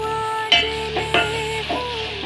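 Onion, tomato, ginger-garlic paste and a bay leaf stirred in a frying pan, with a few sharp spatula scrapes against the pan over a steady low sizzle and a faint background hum.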